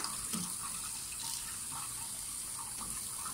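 A child's dish is washed under a running kitchen tap, a steady close stream of water with small splashes and a brief clink near the start, and no voices.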